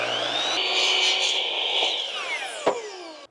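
A power tool cuts a wooden header board down to 80 inches for a bi-fold barn door. A loud, close, sustained whine holds steady, then its pitch falls as it winds down, ending with a sharp knock.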